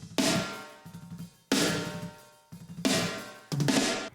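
Metal drum kit pushed through a smash bus with a UAD 1176 compressor, giving heavily squashed, bright crashing hits with pumping swells and gaps between repeated bursts, no speech.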